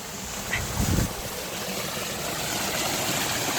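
Water gushes from a newly fitted pump on a 7.5 motor at a village farm, a steady, even rushing flow that holds at moderate level throughout with no talk over it.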